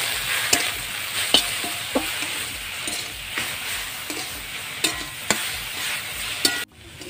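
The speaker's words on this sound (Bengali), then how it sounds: "রসুনটা হালকা করে ভেজে শাকগুলো মিশিয়ে দেবো।" Jute leaf greens fry and are stirred with garlic in a pan. A constant sizzle runs under repeated clicking spatula strokes, loud and near, before the sound cuts off abruptly at the end.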